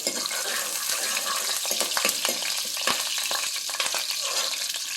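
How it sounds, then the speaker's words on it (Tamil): Crushed garlic fries in a pan for a dal and brinjal gravy: a steady, close sizzle with scattered clicks and scrapes from stirring, and no voices. "பூண்டை போடலாம். பூண்டு நல்லா வதங்கட்டும்."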